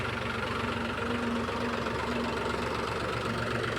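A farm tractor engine idles steadily and close by, a continuous low rumble with a faint knocking pulse and no voices over it.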